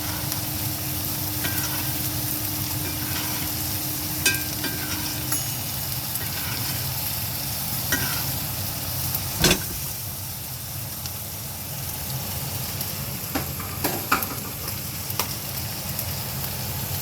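Sous-vide wagyu New York strip steaks seared in a pan and basted with butter. A continuous sizzle and hiss carries through, with occasional spoon clinks and spatters. No one speaks.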